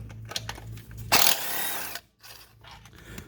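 A wrench loosens a bolt on a Polaris Slingshot starter, giving a short burst of mechanical ratcheting and grinding near the mic, then quieter clicks and handling.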